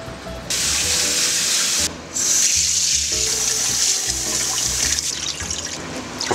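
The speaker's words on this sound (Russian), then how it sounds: "Мы промываем рис от крахмала, который мы замочили в начале" Rice being rinsed under a running kitchen tap, a steady loud hiss of water with brief breaks and splashing shifts as the grains are stirred, close and without talk.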